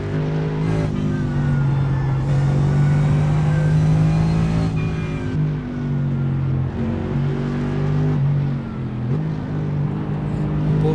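A Mercedes SLS GT3 race car roars through a racing video game, its engine loud and close as it holds a steady high drone and rises and falls through gear changes, with brief dips.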